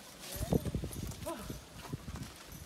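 Hooves clip-clop in a quick, uneven patter close by during horseback riding in Cuba, with voices talking over them.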